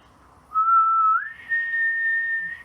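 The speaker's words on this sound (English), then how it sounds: "you can hear the change in pitch when I whistle" A single clear whistle holds a steady lower note with the lips shaped for E, then steps up to a higher sustained tone, close and unaccompanied.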